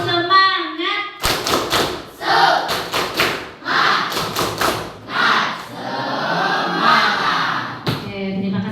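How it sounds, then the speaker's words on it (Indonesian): Sixth-grade primary school pupils in a classroom perform a rhythmic spirit clap, loud group clapping in syncopated bursts with chanting voices, preceded and followed by an adult speaking. "Tepuk semangat dulu untuk kelas 6."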